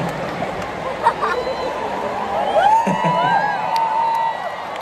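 A crowd at a Filipino entertainment event cheers and whoops. The noise rises in scattered shouts and swells, with people talking over the crowd and no clear clapping.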